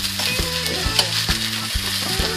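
Bean sprouts sizzle and crackle in a hot pan for pad thai, a steady frying hiss running through the whole short stretch with no talking.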